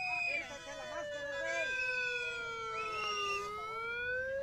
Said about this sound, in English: Why does their siren sound like a cartoon whistle?